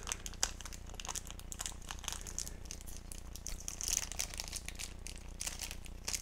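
A small plastic bag holding a LEGO Star Wars minifigure head crinkles and crackles steadily up close, with rapid irregular rustles and sharper crisp snaps for several seconds, fairly quiet with no voices.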